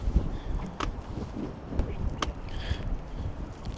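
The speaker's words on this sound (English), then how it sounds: "nice and windy today" Gusty wind buffets the microphone in low rumbling bursts, steady throughout with a few sharper gust peaks, heard outdoors near water while fishing.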